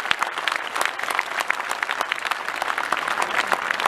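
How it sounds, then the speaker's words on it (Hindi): A large audience at a Hindi comic poetry recital claps loudly and energetically, a dense, sustained roar of many hands throughout with scattered sharp individual claps standing out. "दोनों हाथ उठा करके पूरा सदन जोरदार तालियां बजाए।"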